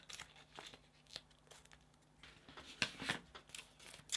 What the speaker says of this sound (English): with a pair of scissors, I'm just going to go down and cut these into more manageable chunks